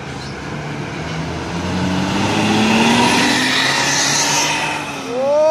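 A Jetbus 2 HDD coach drives past on a road at night, a loud rising and falling engine roar with a sweeping pitch as it nears and goes by, and a brief horn-like tone at the very end.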